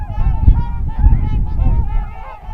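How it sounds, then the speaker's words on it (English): White geese honk in a dense chorus at a wildlife refuge during a migratory bird festival, overlapping calls rising and falling continuously at moderate distance. "there's nothing better than all those white geese rising"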